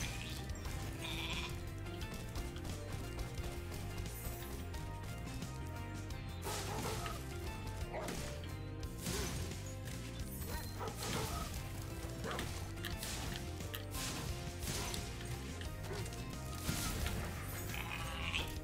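Sheep bleating from the video game Spyro Reignited sounds repeatedly over dense, loud game music and effects throughout.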